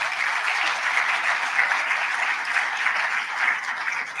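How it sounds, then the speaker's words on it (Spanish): Steady, dense audience applause fills a business forum hall in Mexico City, sustained at an even level throughout without any voices over it. "con el aplauso de todos nuestros asistentes"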